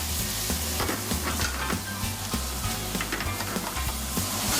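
Rigatoni pasta tossed in pans of beef ragu sauce, a steady loud sizzle and frying hiss with repeated stirring and scraping, no voices.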